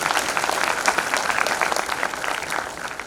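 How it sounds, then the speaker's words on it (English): Dense, steady clapping from an audience at a convocation ceremony, many hands at once filling the whole stretch with no voices standing out. "So big clap for you too"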